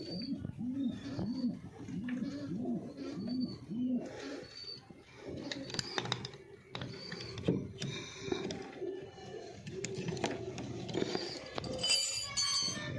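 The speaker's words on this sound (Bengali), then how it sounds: "এটা বাড়ির বাচ্চা পায়রা।" Young domestic pigeons coo in soft, rhythmic, repeated low calls at close range, joined by scattered chirps, light rustling and mechanical clicks.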